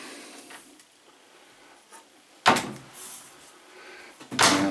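Bifold closet doors near the entry of a house opening or closing, two sharp clattering knocks a couple of seconds apart in a quiet room, with faint movement between them.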